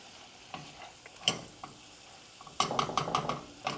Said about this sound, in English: Keep stirring if you're gonna be cooking it this hot.